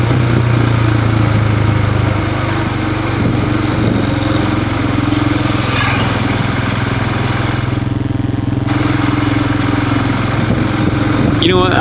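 A 2018 Royal Enfield Himalayan motorcycle engine drones steadily while riding, loud and constant with wind rumble, and a rider talks over it.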